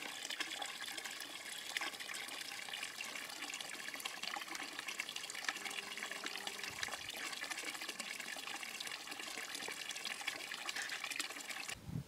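Mountain stream in the Bourbonnais hills in February, water babbling and lapping in a continuous soft wash, steady and fairly faint with no voices.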